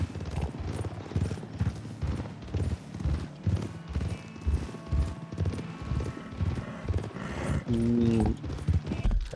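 Hooves clip-clop in a steady galloping rhythm in Red Dead Redemption 2, close and prominent throughout, with a brief horse whinny near the end.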